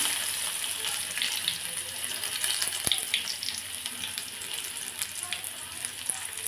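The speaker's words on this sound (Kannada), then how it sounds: "ಅದಕ್ಕೆ ಎಣ್ಣೆ ಹಾಕ್ತಾಯಿದ್ದೀನಿ. ಬೆಳ್ಳುಳ್ಳಿ ಹಾಕ್ತಾಯಿದ್ದೀನಿ." Garlic sizzling in hot oil in a pan for a simple neer rasam, a steady, close hiss and crackle running throughout, with a few small pops and clinks.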